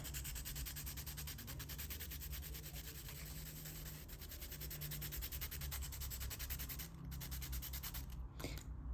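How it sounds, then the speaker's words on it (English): Pencil graphite rubbed gently on sandpaper gives a steady, faint, close scratchy scrubbing with an even back-and-forth rhythm, heard alone throughout. "gently start to scrub the graphite on the sandpaper."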